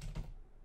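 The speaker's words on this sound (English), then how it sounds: "MM on the keyboard." A computer keyboard gives a couple of quick, faint key presses close by, then falls quiet.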